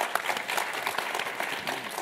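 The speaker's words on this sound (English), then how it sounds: "round of applause." An audience applauding after a panel discussion on film, a brief burst of dense, steady clapping from a crowd indoors.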